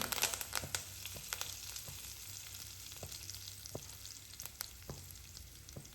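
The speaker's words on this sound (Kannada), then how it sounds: "ಎಣ್ಣೆ ಕಾದೈತಿ, ಕರಿಬೇವು ಹಾಕ್ತೀನಿ." Curry leaves dropped into hot oil for a prawn curry, giving a faint, steady sizzle and crackle with occasional small pops throughout.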